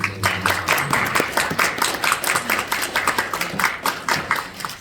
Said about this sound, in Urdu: چلے تالی بجا سکتے ہیں آپ